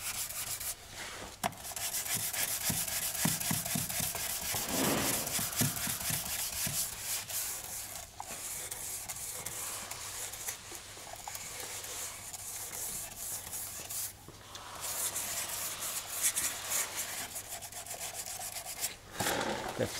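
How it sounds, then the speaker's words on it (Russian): A sanding block with 400-grit paper scrubs steadily back and forth over a welded surface being prepared for paint. The rasping strokes are continuous and fairly close, with short pauses between them. "если брусок стирает все хорошо, значит проблем с плоскостью никаких нет"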